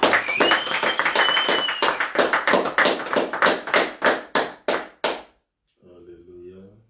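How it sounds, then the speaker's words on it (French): Rhythmic group clapping in a church worship service praising the Lord, steady beats slowing and thinning out into a few final claps before a voice begins speaking at the end. "Donnons encore une main d'acclamation pour le Seigneur"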